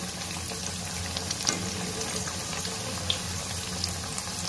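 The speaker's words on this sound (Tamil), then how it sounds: "நான் 5 வடையை தட்டி போட்டுக்கிறேன்" Banana flower vada deep frying in hot oil, a dense steady sizzle and bubbling that runs throughout, close and fairly loud, with faint scraping now and then and no talking.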